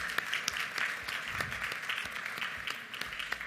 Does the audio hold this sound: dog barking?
no